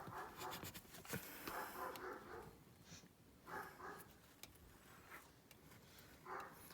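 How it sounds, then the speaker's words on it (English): A dog barks in short, intermittent bursts, faint and somewhat distant, with quiet pauses between the barks and soft background noise. "My dog is barking like crazy, probably because the cats are out."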